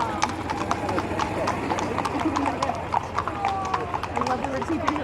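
Horses' hooves clip-clop steadily on pavement at a small-town Memorial Day parade in Plympton, a continuous, close rhythm of hoof strikes beneath crowd chatter and voices.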